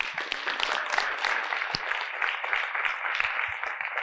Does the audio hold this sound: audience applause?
yes